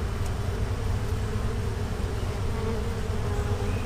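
Honeybees buzz steadily around an open hive box during a nuc inspection, a close, continuous drone from many insects with no voices.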